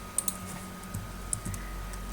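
Typing on a computer keyboard, with a handful of quiet, crisp key clicks spaced unevenly over a low background hum.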